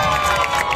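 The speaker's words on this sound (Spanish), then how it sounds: "aplauso." Crowd cheering and clapping along the route of an opening parade at the Valle de La Pascua fair in Guárico, a loud, continuous mass of voices and applause with no break.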